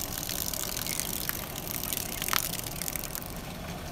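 Water jets under pressure from a 3D printed laminar flow nozzle assembly with an acrylic piece, a steady broadband hiss and gush at moderate level, with no voices.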